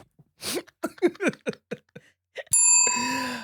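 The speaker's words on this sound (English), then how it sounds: "That's the bell." A bell rings out abruptly after a run of short, sharp knocks or clicks, its bright sustained tone ringing clearly and fading slowly, with nothing else around it.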